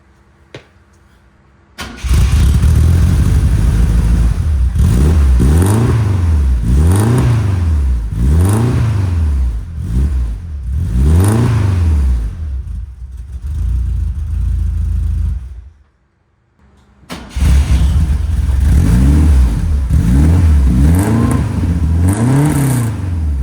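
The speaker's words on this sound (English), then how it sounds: "get another sound clip of this new exhaust, new tip" A 1976 BMW 2002 with a new exhaust and tip cranks to life and revs repeatedly, loud and close, with rising and falling engine bursts, a brief drop to near silence, then another start and more revving.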